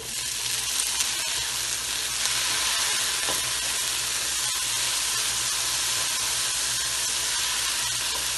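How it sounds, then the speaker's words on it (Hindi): Tomatoes and green chilies land in a pan of onions that are already frying and browning, and a dense, loud sizzle with hiss and crackle follows. It goes on steadily throughout, with no voices. "अब हम टमाटर डालेंगे, हरी मिर्च"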